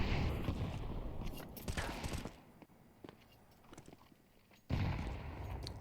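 Pistol fire in a Counter-Strike esports match: sharp, close shots in bursts with a quiet gap between them, then a louder burst of firing at the end.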